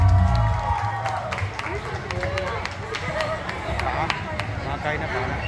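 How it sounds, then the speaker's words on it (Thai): Audience applause and cheering at a Thai concert, a dense wash of clapping with scattered shouts, heard under a voice talking over a loud low opening rumble. "ขอเสียงปรบมือครับน้องทรายด้วยครับผม"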